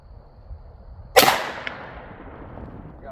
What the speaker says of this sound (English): First I'm going to be testing the Federal Premium 85 grain jacketed hollow points out of the 327 Federal.